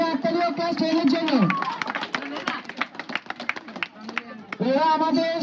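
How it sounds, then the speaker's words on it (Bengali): During a school football prize ceremony, a burst of crowd clapping rises between stretches of a loud announcer's voice, with rapid overlapping claps in the middle before the talk resumes. "জোরে হাততালি ও ক্লাস 10-এর জন্য"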